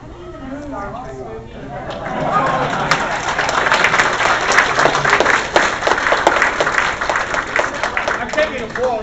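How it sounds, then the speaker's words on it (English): A convention audience at DragonCon 2012 breaks into applause after a brief stretch of talking. The clapping swells quickly and stays loud and dense through the rest of the clip. "I'm taking applause like I did."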